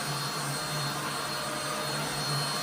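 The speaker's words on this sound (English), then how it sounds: "Let's turn it on high. Hear the difference? Higher suction." A vacuum cleaner runs steadily at high power, a loud, even whooshing roar with a constant low hum and no pauses.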